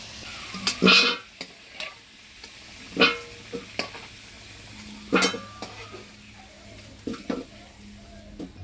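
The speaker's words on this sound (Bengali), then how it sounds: "আলুগুলো লাল করে ভেজে নিলাম, এবার তুলে নেব।" Potatoes fried red in hot oil are stirred and lifted in a pan, with loud scraping and clinking strokes of a utensil over a steady background sizzle.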